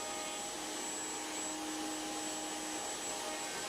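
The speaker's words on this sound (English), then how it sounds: "I come back to the router table and I just add a really slight round over to each edge on the outside face" A router table rounds over the outer edges of wooden picture frame pieces with a 1/8 or 1/4 inch bit. Its steady, loud motor whine holds throughout with no breaks.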